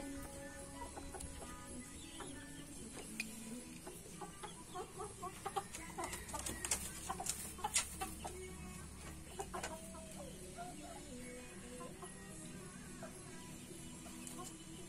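Laying hens and native chickens cluck and squawk in a farmyard with ducks kept nearby. Calls sound from near and middle distance and grow busiest in the middle.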